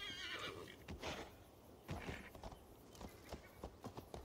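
A horse in Assassin's Creed Valhalla lets out a whinny, then hooves clatter in quick, uneven bursts with creaking tack, fairly close but soft overall.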